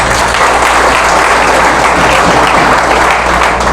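Sustained, dense applause from an audience at a Brahma Kumaris Rajyoga and meditation talk, loud and steady for the whole stretch with no speech over it.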